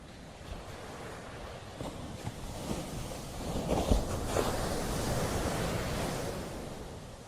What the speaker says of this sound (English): Just listening to the waves for a moment.